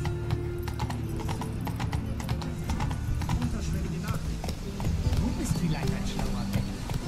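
Hoofbeats of a horse galloping in the video game The Witcher 3: Wild Hunt, a steady clip-clop rhythm running throughout at a moderate, even level, with someone talking over it and a brief whinny.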